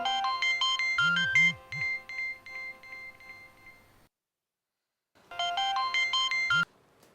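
A phone ringtone plays as a repeating electronic melody in two bursts separated by a few seconds of silence, loud and close with no talking, in a scene from a Pakistani TV drama.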